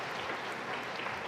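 An audience at a conference opening applauds, a brief, fairly quiet wash of many hands clapping steadily at a distance.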